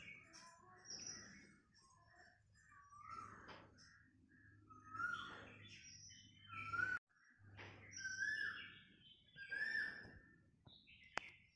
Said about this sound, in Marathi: कोकिळं गाणं म्हणते बघा कशी सकाळ सकाळचं